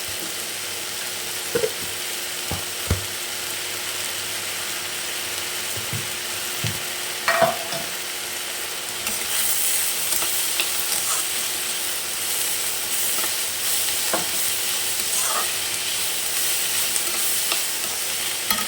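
Garlic paste fries in a pan for a vegetable sabji of cauliflower, green peas and potato, giving a steady sizzle throughout, with occasional scrapes and taps from stirring. The sizzle grows louder partway through.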